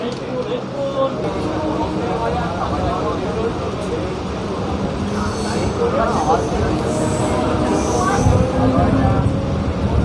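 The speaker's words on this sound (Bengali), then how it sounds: "আমাদের ট্রেন এখন এসে হল্ট করলো পান্ডুয়া, দাঁড়িয়ে আছে আমাদের ট্রেন" A train pulls into Pandua station on the Bandel Junction to Bardhaman line and comes to a halt, its rumble and wheel noise steady and close throughout, with a faint squeal and voices talking over it.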